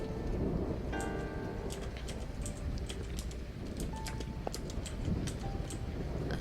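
Video game rainstorm: a steady hiss of falling rain with low rumbling thunder, overlaid by sharp clicking taps, all fairly faint and without voices.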